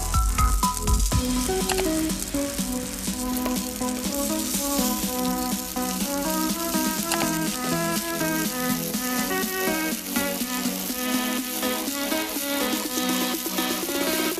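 River prawns sizzle steadily in a hot pan, a continuous crackling fry heard up close over soft background music.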